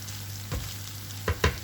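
Egg poured into a pan with frozen vegetables and ham for fried rice, giving a soft, quiet sizzle with a few brief stirring scrapes and taps near the end.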